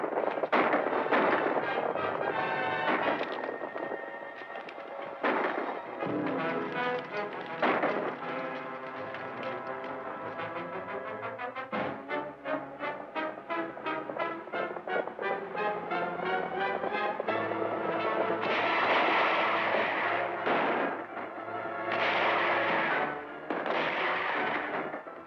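Gunfire in a western shootout, a long string of sharp shots and bursts crackling in irregular volleys, some rapid and overlapping, with echoing reports across nearly half a minute.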